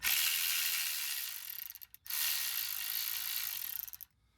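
A hand ratchet loosens 8mm bolts on the fuel pump module bracket of a 2018 Toyota Tacoma, producing rapid continuous clicking in two long runs separated by a short pause, close and fairly loud, with no one speaking.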